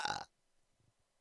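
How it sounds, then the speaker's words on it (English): A single short burp comes at the start, close and fairly loud, then faint background noise. "Oh no, burping."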